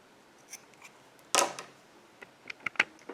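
Scissors snip through yarn on a crocheted snowman: one sharp, crisp cut stands out in a quiet room, followed by a few small light clicks and ticks.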